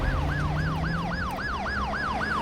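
An ambulance siren wails in a steady, fast rising-and-falling cycle, loud and continuous over low traffic rumble, with no talking.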